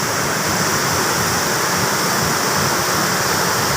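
Strong rushing water at Maeya Waterfall, Chiang Mai, Thailand, roars as a dense, unbroken wash of close, loud noise for the whole few seconds.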